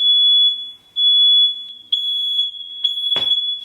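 Smoke alarms sound a piercing high electronic tone in repeated long beeps with brief gaps, loud and close, ending with a short burst of noise.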